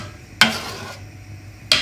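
Spoon stirring a homemade cleaning liquid with grated fennel in a bowl, two short scraping strokes on a quiet background.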